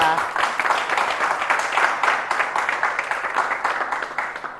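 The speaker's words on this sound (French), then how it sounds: "On l'applaudit également" A studio audience at a French television health quiz show applauds a contestant, a steady dense patter of clapping that carries on at an even level throughout with no one speaking over it.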